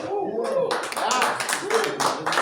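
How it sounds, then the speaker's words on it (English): An audience at a stand-up comedy show claps steadily and cheers throughout, a dense continuous wash of applause with voices mixed in. "let's make sure we clap it up and make some noise"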